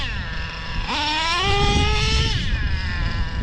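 An O.S. 21 TM nitro engine in a Traxxas RC car buzzes at high pitch, revving up sharply partway through, holding a strained whine, then dropping back, loud and close over a rough background.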